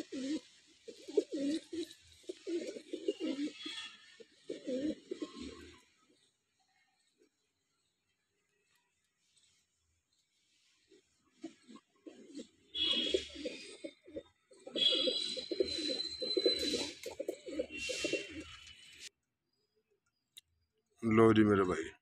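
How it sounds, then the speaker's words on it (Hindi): Punjabi Malwai pigeons coo and flutter in a rooftop coop in Chhatarpur village, Delhi. Soft, repeated cooing comes in bursts, with quiet gaps and light clicks, and a voice cuts in briefly near the end. "कबूतर सभी अच्छी क्वालिटी के हैं"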